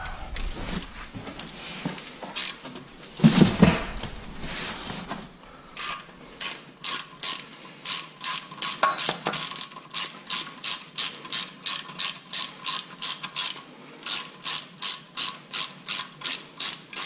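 Ratchet clicking in steady repeated bursts as a bolt is tightened on the solid supercharger coupler of a 2014 Chevy SS, close and clear, with a few mechanical clunks and rustles beforehand.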